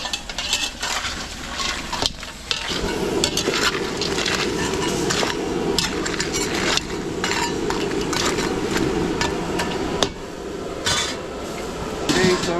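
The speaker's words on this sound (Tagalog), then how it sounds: "kumukulo na to" Coconut milk boils in a cooking pot for a catering spread, a dense bubbling hiss layered with frequent metal clinks and scrapes of a utensil against the pot, close and fairly loud.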